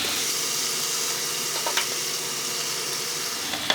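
Steady loud sizzling of an egg frying with fermented pork sausage in a hot wok, a constant crackling hiss with a few faint clinks.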